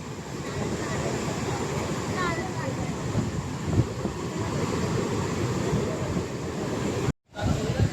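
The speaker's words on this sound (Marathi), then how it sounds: "समुद्र पण खूप खवळलेलं आहे" Rough, stormy sea waves crash steadily onto the shore at Ganpatipule on the Konkan coast, a dense roaring wash with wind rumble, ending in a short dropout.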